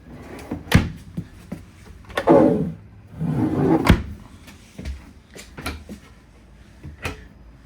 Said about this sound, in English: open up the drawers just so you can hear the quality